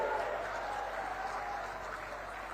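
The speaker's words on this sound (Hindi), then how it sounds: "जोर से ताली बजाइए सरोज बहन के लिए" Crowd applauding at a political rally in Korba, a dense, steady wash of clapping from many people, moderately loud and continuous for a few seconds.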